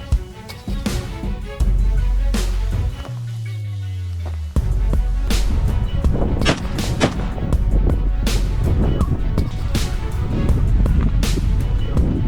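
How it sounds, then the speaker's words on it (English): Gunshots ring out during a wild boar hunt outdoors: several sharp, loud cracks spaced across the stretch over wind and rumbling background noise, with no talk. "A warning shot echoed."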